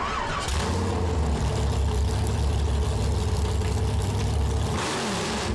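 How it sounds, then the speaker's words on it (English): A racing boat's loud, unmuffled engine roars continuously close by, holding a high rev for several seconds before cutting back sharply. "it's got no mufflers. It's very loud, and it revs like super quick."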